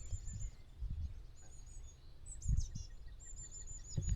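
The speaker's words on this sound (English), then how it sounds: "if we both go quiet, you just hear the birds" Birds chirp faintly and intermittently along a gravel bridleway on the Wolf Way on a 35°C summer day, heard at a distance over soft rustling and occasional low thumps.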